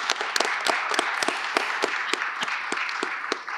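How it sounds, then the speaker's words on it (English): A panel audience bursts into applause, a dense stretch of sharp, overlapping hand claps that holds steady, then tapers slightly near the end. "Give everybody a round of applause."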